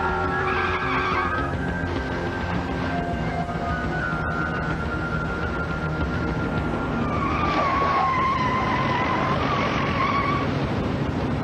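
A car weaving erratically on a road skids, with a steady roar of tires and engine and long squealing tire tones rising near the end, continuous and fairly loud with no talk.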